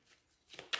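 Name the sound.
oracle cards being shuffled and drawn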